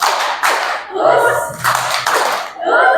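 A classroom group claps along in a rhythmic pattern of two, two, then one, with bursts of hand claps separated by short gaps and a voice talking between them.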